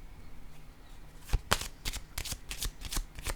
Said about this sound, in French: Je vais brasser encore les cartes